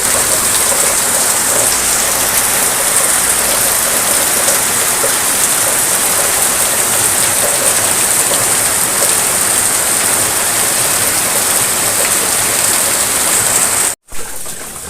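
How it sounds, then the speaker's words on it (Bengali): Steady heavy rain pouring down, a dense continuous hiss that holds without a break until a brief dropout near the end. "হঠাৎ করেই বৃষ্টি এসে গেছে"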